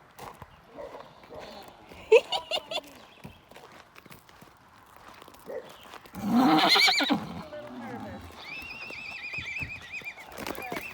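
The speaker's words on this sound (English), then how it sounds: "in the front pen in with Sheldon, just so that they can talk back and forth with our horses up front" Horses on a farm, dwarf horses among them, whinny to each other: a loud nearby neigh in the middle, fainter calls before and after, plus scattered hoof steps and a few soft voices.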